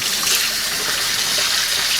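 Warm water pouring steadily into a bowl to soak sausage casings, a continuous close gushing stream with no talk.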